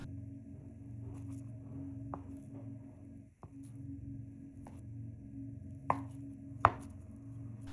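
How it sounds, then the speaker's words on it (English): A knife cuts 600 grams of paneer into cubes on a board, giving sparse, soft chopping taps at irregular intervals with two sharper knocks near the end, all over a quiet steady hum. "Now, cut 600 grams of paneer into cubes."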